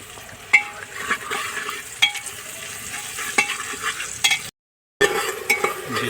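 Whole spices, onion and salt frying in hot oil in a pan, with a low sizzle and a few sharp spoon knocks and scrapes against the metal, close, briefly cutting to silence near the end before resuming.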